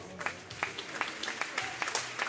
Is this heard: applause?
yes